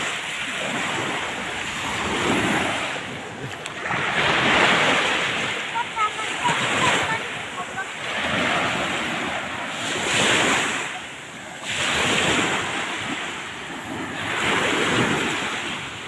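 Strong ocean waves rolling onto the beach at Pak Lotai Palm Beach in Singkawang, surging and crashing in steady swells every few seconds with gusting wind buffeting the microphone.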